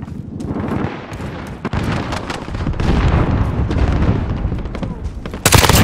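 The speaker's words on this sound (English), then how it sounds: "Allied cruise missile away." Allied cruise missile strike in a ground war domination match of a military video game, heard as a dense barrage of loud booms and blasts under continuous gunfire, ending in a sharp burst of noise.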